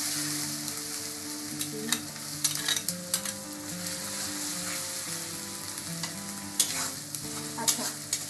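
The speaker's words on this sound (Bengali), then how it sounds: "আদা রসুন বাটা দিয়ে হালকা একটু ভাজা দিয়ে নেব" Ginger-garlic paste and spices fry in a pan with a steady, close sizzle, broken by repeated scraping clicks from stirring throughout. No voices.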